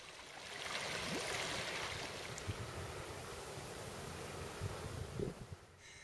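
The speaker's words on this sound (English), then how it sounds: "Here the water is entering the concrete culverts that form the siphon." Steady rushing of canal water flowing into the concrete culverts of a siphon on the Loup Power Canal, a continuous broad wash heard close by with faint gusts of wind and no voices.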